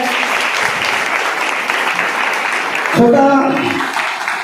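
Loud applause from an audience at a music academy's seventh anniversary celebration, honoring a student; dense steady clapping fills most of the stretch, then a brief burst of voices and tonal sound near the end.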